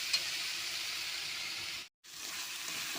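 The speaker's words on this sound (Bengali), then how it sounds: "মশলাটা একটু কষে নেবো আমি, কিছুক্ষণ ধরে কষবো মশলাটা" Spice paste fried in a pan for a tangra fish curry with potatoes, a steady close hiss and sizzle that breaks off into silence for a moment before the sizzling resumes.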